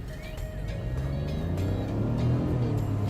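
A 2020 Nissan Juke with a dual-clutch automatic, heard from inside while driving and accelerating, giving a steady, close, low engine drone with a gentle rising hum.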